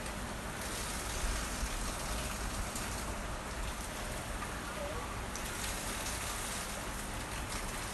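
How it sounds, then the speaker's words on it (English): Steady light rain falls in Maryland, a soft continuous patter on surfaces that holds at an even level throughout with no voices over it. "It's raining a bit in Maryland."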